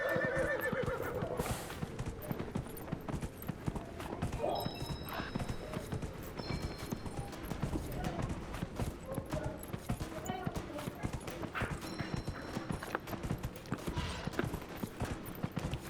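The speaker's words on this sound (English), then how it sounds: "Pra mim o cavalo tá a mesma coisa se estivesse andando" Horse hooves walk in Dragon Age: Inquisition, a steady clip-clop with an occasional whinny amid game ambience, while someone talks over the sound.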